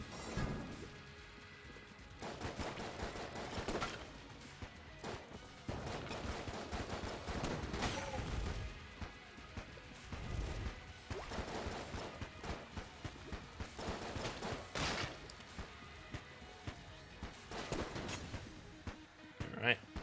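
Rapid gunfire from the Void Core Assault Rifle in Enter the Gungeon, a dense run of bursts and crashing impacts mixed with game effects, while a player talks over much of it.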